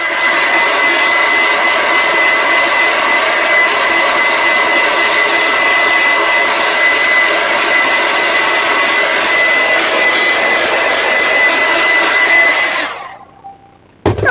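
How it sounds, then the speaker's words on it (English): Hair dryer blowing steadily at close range with a loud constant whoosh and whine, then cutting off abruptly near the end. "I'll just give it another quick burst with the dryer"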